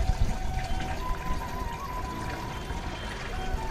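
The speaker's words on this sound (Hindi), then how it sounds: "ये डालूंगा वेस्ट डिकम्पोजर" Waste decomposer liquid poured into a backpack spray pump for a crop spraying job, a steady faint pouring and trickling sound that runs continuously with no talk.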